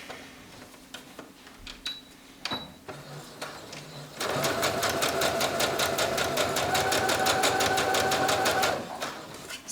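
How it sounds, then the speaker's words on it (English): A domestic sewing machine stitches a dress lining to the seam allowance, starting with a few short taps and clicks, then running in a fast, even, close-up mechanical chatter for about five seconds before stopping. "So I'm sewing my lining to the seam allowance, and I like to sew about 1/8 an inch from the seam line"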